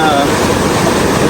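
River water rushing steadily across a crossing with no bridge, loud and continuous with a broadband wash and some wind buffeting, while a voice talks over it.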